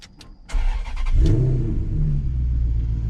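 A few clicks, then a Maserati GranTurismo S engine cranks and fires up into a deep rumbling rev that settles into a throaty idle.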